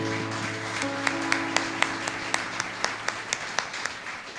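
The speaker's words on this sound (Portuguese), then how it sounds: "Aplaude o Senhor." A church congregation applauds over sustained organ-like music, and the scattered clapping settles into steady rhythmic claps in the second half.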